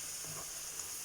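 A mixture being stirred in a pan with Lotus Biscoff biscuits, a soft continuous sizzling hiss with faint scraping, steady and close, with no voices.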